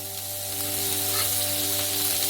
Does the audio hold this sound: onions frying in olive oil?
yes